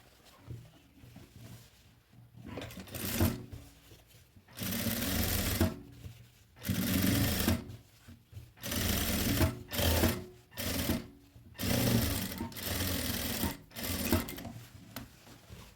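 A sewing machine stitching the waistband of a child's overalls runs in repeated loud bursts of a few seconds each, separated by short pauses, close and alone with no voices.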